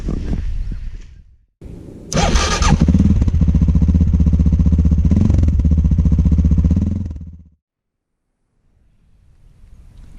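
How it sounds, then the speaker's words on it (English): A 2018 SWM650 Superdual motorcycle engine roars loudly and steadily for several seconds on a test ride, preceded by a brief rumble and a short gap, then fading to near silence. "Today I'm fortunate enough to be test riding the SWM650"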